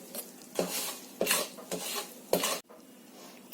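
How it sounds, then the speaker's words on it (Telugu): Seeds tipped into a mixer jar for ginger chutney, a few quick rattling pours and clinks against the jar, fairly faint and close, ending in quiet. "నూనె లేకుండా మనం ఈ గింజలన్నీ కూడా ఇలాగా వేసేసుకుందాం"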